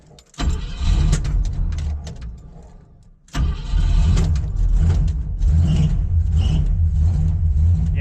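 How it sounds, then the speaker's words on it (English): A 1969 Ford Fairlane engine running rough and in need of carburetor tuning idles loudly and unevenly close by, dipping briefly before surging back to a steady, throbbing drone. "It's kind of rough. Kind of rough right now."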